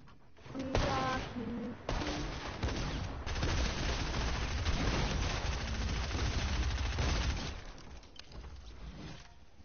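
Rapid bursts of gunfire and explosions ring out in a Dropzone video game match, a sustained clattering barrage at moderate level with a few brief electronic tones near the start.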